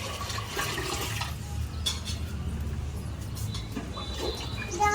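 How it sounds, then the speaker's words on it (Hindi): Water is poured into a clay cooking pot for rice, a steady, close, fairly loud rushing and gurgling stream that runs for several seconds without speech. "तो पानी हमने रख दिया है हांडी में, उसी हांडी में चावल भी बना लेंगे।"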